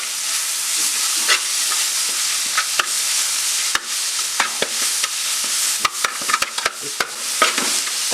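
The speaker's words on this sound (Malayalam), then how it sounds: "ഇതൊന്ന് ഇളക്കി കൊടുക്കും." Tomatoes sizzle steadily in a hot pan for Malabar mutton curry while a spoon stirs them, with repeated scraping strokes and clicks over a constant frying hiss.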